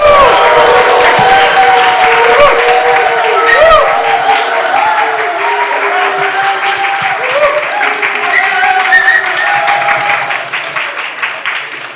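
A church congregation cheers and applauds for a pastor called up front, a dense, loud crowd roar with whistle-like tones and clapping sustained throughout, tapering slightly near the end.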